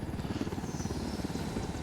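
Steady rotor thump of a helicopter in the video game Ghost Recon Wildlands, a rapid even chop that keeps on without a break at a moderate, slightly distant level.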